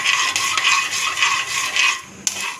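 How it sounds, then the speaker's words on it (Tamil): Mustard seeds splutter and crackle in hot oil in a pan, a dense steady fizzing with scattered pops and one sharper crack near the end, loud and close with no voices. "பாருங்கள் கடுகு பொரிஞ்சு வருது."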